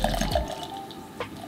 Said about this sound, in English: And pour it into my Urban Roots glass.